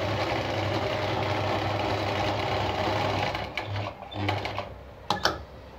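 A Singer 319K sewing machine, black variant, runs a long straight stitch through cloth with a steady fast mechanical whirr and clatter for several seconds, then slows and stops with a few clicks.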